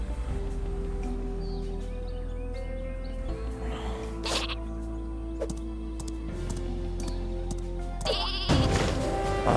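A cartoonish super sheep in a video game bleats repeatedly over a steady game background hum, with wavering bleats and a louder burst near the end, no talking.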